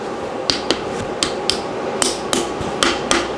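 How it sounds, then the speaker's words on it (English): Hammer gently tapping an engine block part into place during assembly: about nine light, sharp metallic taps at an uneven pace, close and clear, with no talk. "So tap the edges of that down gently."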